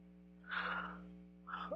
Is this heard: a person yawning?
yes